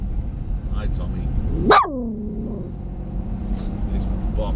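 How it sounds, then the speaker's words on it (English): A dog gives one loud, sharp bark at construction vehicles in city traffic, standing out above a steady rumble of passing vehicles and engines. "He's barking at the construction vehicles."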